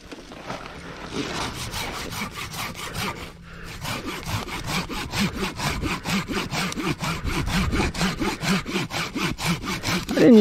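A hand saw cuts through a fallen tree across a trail, giving a steady series of rhythmic rasping back-and-forth strokes, close and fairly loud, with one brief pause early on before the sawing speeds up.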